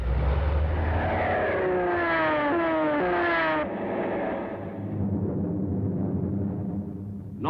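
Allied aircraft taking off, a loud, droning propeller-engine roar whose pitch climbs steadily as it accelerates, then drops into a steady rumble and fades slightly.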